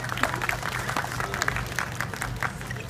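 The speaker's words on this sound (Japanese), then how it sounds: "拍手。" An audience at a festival closing ceremony claps steadily and densely throughout, a continuous wash of applause with a low hum underneath.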